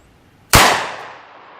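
A single loud, close gunshot from a .357 Magnum revolver with a 4-inch barrel firing a 158-grain load: a sharp crack followed by a decaying ring, alone with no talk.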